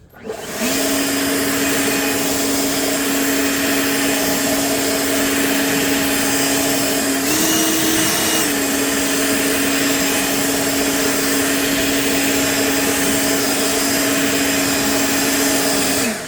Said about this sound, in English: You could use your blower. You don't have to use your shovel.